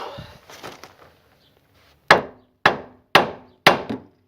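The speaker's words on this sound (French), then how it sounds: "avec le gros marteau que j'ai, ça devrait dégager." Four heavy, ringing blows from a big hammer hit the steering pivot of a Citroën BX 14 (XY engine) during a driveshaft swap, evenly spaced and close, after some quieter metallic handling.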